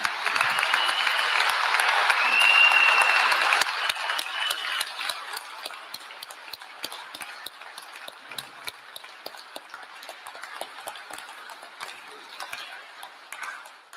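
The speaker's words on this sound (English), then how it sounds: "give him a standing ovation and applause for having lived" Standing ovation from mourners at a memorial service in a cathedral: broad, loud clapping for the first few seconds, then thinning into scattered, fainter claps that trail off toward the end.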